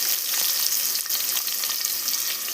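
Bay leaf, cinnamon and a couple of onions frying in a pan for a biryani-style pulao, giving a steady, loud, dense sizzle with occasional stirring scrapes and no voices.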